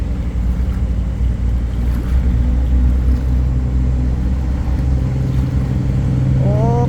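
Steady low engine drone of three tugboats towing a cargo barge upstream against the current on a river, continuous and fairly loud with faint water and wind noise; a brief rising tone appears near the end.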